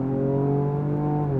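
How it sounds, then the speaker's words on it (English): A Ford Ranger Raptor pickup accelerating hard off the line after a brake-boosted launch, its engine note a loud, steady, rising drone heard close from inside the cabin, with no talking. "I will brake boost it off the line, pin my foot, let it go"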